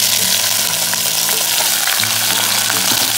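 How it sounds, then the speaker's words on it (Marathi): Parboiled vegetables fry in hot oil in a pan, giving a loud, steady sizzle with sharp crackles and pops throughout, no voices over it. "ऑलरेडी थोडं बॉईल केल्यामुळे ते थोडंसं त्याला तेलापेक्षा कडकडा आवाज होतो"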